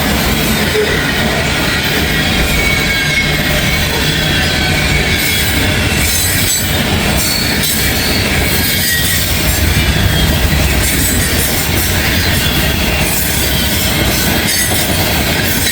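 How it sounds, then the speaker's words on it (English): A long CSX mixed manifest freight train rolls past close by in Kentucky, a loud continuous roar of wheels and cars with squealing wheels and faint clickety-clack, sustained throughout. "Oh, it's not a grain train. We got a mixed manifest."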